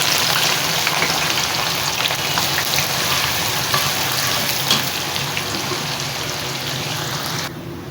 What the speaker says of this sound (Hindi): प्याज को करते हैं सबसे पहले फ्राई